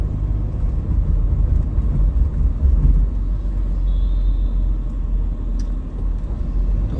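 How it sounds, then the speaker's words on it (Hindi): Evening road traffic in Haldwani, India, forms a continuous low rumble of passing vehicles, with a brief high tone partway through. "हल्द्वानी में अब थोड़ा सा ट्रैफिक शुरू हो गया है"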